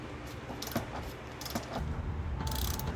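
A ratchet clicks in short bursts while a seat bolt is removed from a 2004 Chevy Silverado, with quiet metallic ticks under a steady background hiss.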